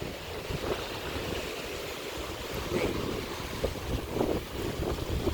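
Gusty wind at the seaside at high tide, with brown river-fed water and surf washing steadily; broadband roar and microphone buffeting throughout, fairly loud and continuous, no talk.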